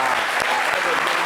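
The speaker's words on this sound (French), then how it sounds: "quand une émission est chic, on applaudit pour ça" A studio audience applauds in a short, dense burst of clapping at a television talk show, with voices mixed in.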